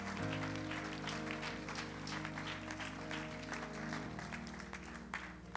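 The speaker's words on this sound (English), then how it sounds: "Clap your hands." A church congregation claps along during a Sunday morning service, steady clapping layered over sustained organ or keyboard chords and a low bass line throughout.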